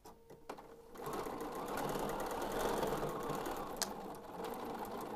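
A sewing machine runs steadily, stitching a quarter-inch seam on a fabric doll leg, its fast even whir continuing at moderate volume after a brief start.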